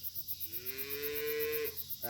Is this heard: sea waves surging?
no